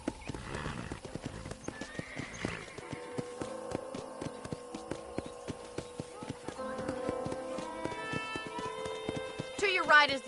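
In the Red Dead Redemption video game, a horse's hooves clip-clop in a steady walking rhythm on a ranch road, with an occasional whinny and snort, under a low musical hum and some talk.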